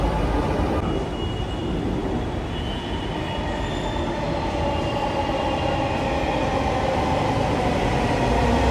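Metro train on the ride home, heard from inside the carriage: a loud, steady rumble of wheels and car body with faint squeals over the rails, running the whole time with no voices.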